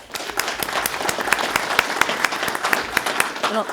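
An audience at a Carrollton city council meeting applauds steadily, with dense clapping of moderate loudness and a few sharper claps standing out.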